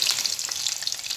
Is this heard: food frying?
yes